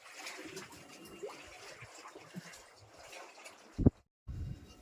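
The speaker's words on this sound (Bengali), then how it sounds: "নঙ্গর ফেলে দিল ফার্স্ট নঙ্গর" An anchor is dropped from a fishing boat into the Matla River in the Sundarbans: one brief, sharp splash near the end over faint, murky water ambience, followed by a rougher rush of water.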